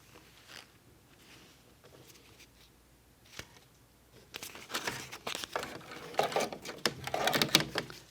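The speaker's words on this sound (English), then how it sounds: "you hear my machine is a little noisy. Crunching through the paper makes a little extra noise." Sewing machine top stitching through paper, a quiet ticking and crunching patter that grows louder and busier in the second half, with irregular crinkling bursts.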